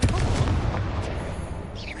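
A Confringo blasting curse explodes in Hogwarts Legacy, a dense low booming blast that rumbles and fades over about two seconds, with a brief whooshing streak near the end.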